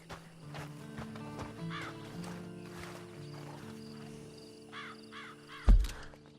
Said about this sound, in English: you better get on this horse